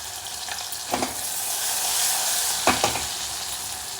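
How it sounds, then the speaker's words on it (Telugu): Onion and turmeric sizzle steadily in hot oil in a pan while cooking raw banana tamarind stew, with two brief stirring scrapes cutting through the constant close frying hiss. "ఉల్లిపాయ వేసి కొంచెం పసుపు వేసి, కొంచెం పసుపు వేయాలి."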